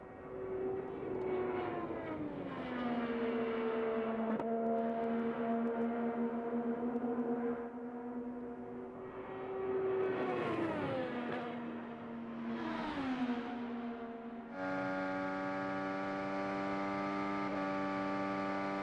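IndyCar race car engines scream continuously at Phoenix Raceway during qualifying, their pitch rising and falling as cars pass and shift, loud and steady with no talk.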